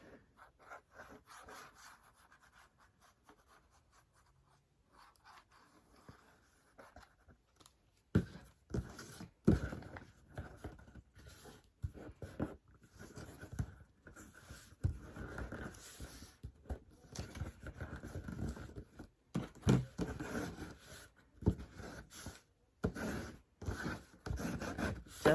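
Glued paper is folded and pressed over the cover of a handmade mini photo album, making soft rubbing, crinkling and scraping close by. It is quiet at first and grows denser and busier in the second half, with no talking.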